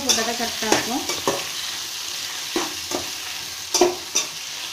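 Tomato, onion and mint sautéing in a pan for mint chutney: a constant loud sizzle with repeated scraping strokes of a spoon stirring, close up.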